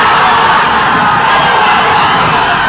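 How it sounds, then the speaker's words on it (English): A football club changing room erupts in loud, continuous cheering, with many voices shouting and whooping together at close range. "This is the sound of a changing room full of people whose lives have been changed forever."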